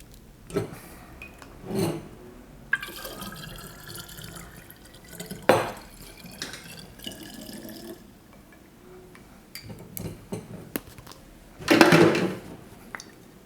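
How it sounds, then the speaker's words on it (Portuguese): Liquor free-poured from a bottle at a bar, with faint intermittent trickles and drips broken by short, louder splashy bursts, the strongest near the end, heard alone with no talk. "eu sempre procuro o ângulo mais perto de 90 graus para conseguir cortar o fluxo do líquido"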